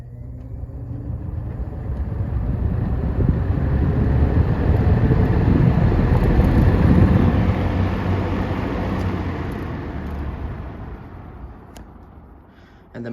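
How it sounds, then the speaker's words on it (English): A vintage 1975 TG&Y Champion box fan runs on high, a steady broad whooshing hum with a low-pitched motor whine, rising gently then tapering off toward the end with no talking. "the motor does have a bit of a whine to it, but it's a very low-pitched whine"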